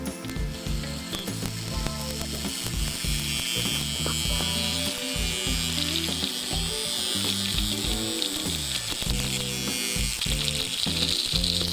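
A rusty old electric motor, wired from its center pickup to the side plate, whirs and buzzes as it runs, with a rough, ratcheting mechanical chatter throughout, close and continuous.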